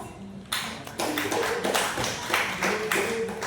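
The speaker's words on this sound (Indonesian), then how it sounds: "Mari kita beri aplaus" Audience applause at a Catholic religious educators' writing presentation event in West Kalimantan, a burst of clapping starting after half a second and continuing steadily from many hands, moderately near and fairly loud, with no speech over it.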